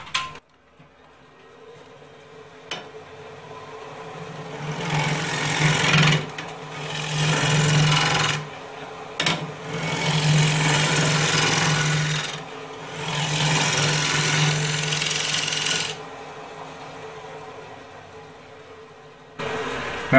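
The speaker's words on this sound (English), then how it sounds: "Again, I'm going to finish cleaning up this face." A wood lathe gouge cuts across the face of a soft maple bowl during rough turning, giving long rasping, hissing passes with a low motor hum beneath, broken by short pauses between cuts.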